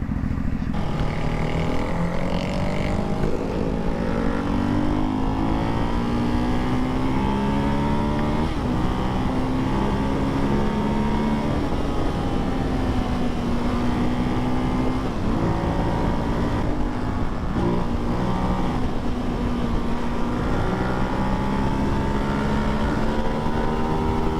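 A Ducati Hypermotard 698 motorcycle accelerates through the gears with a manual clutch, its engine note rising and dropping in repeated sweeps at each shift, loud and steady throughout with wind noise underneath.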